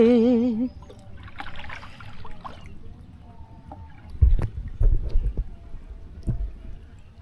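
Oars dip and splash in water with irregular strokes as a rowboat moves in light rain, gentle lapping between them; a brief tonal sound opens the scene before quieter surroundings.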